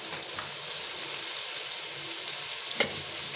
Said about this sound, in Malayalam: ഉള്ളിയെല്ലാം നല്ലപോലെ വഴഞ്ഞിട്ടുണ്ടെങ്കിൽ നമുക്ക് തക്കാളിക്ക് ഇട്ട് കൊടുത്ത് ഒന്ന് വഴറ്റി കൊടുക്കാം